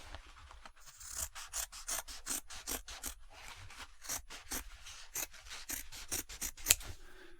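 Scissors snipping through cloth in a close, quiet ASMR-style setting, a rapid series of crisp cuts in quick rhythmic bursts over soft rubbing of fabric, no voices.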